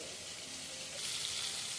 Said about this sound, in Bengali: আলুটা ফ্রাই করে নিয়েছি